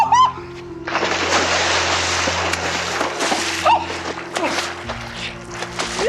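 Water is thrown over someone in a 1987 Australian soap scene: a sustained splashing, sloshing burst lasting a few seconds, close and loud, with a brief voice before it and faint room sounds under it.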